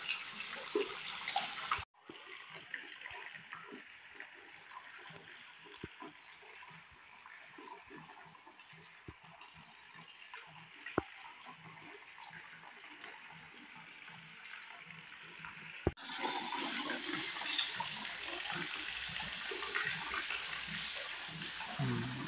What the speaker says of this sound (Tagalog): Meron silang water pump kasi mahina ang tubig ngayon sa